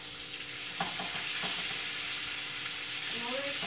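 Bacon fries in a pan over low to medium heat, giving a steady, close, broadband sizzle that runs the whole time, with a few faint clatters of cookware in the middle.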